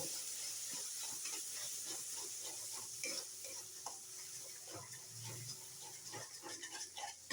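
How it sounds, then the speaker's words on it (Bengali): Cauliflower korma stirred in a hot pan, a continuous gentle sizzle and hiss under repeated scraping and clinking of the spoon against the pan, close by with no talking. "এবার আমি এটা নাড়তে থাকবো"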